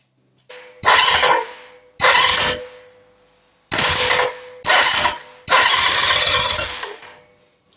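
A Norvil Commando motorcycle's electric starter motor cranks in five separate bursts, each a loud, close grinding whirr that starts abruptly and fades out, with short silent pauses between attempts.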